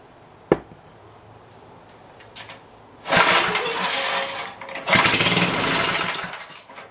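A Montgomery Ward lawn tractor engine roars at full throttle in two long, loud bursts after a sharp click and a quieter idle, steady and close.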